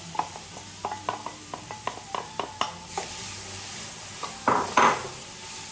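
Onion goes into a hot pan for a chicken and andouille gumbo, a run of clinking metal utensil taps and scrapes against the pan, then a louder rising sizzle near the end, close up with no talking.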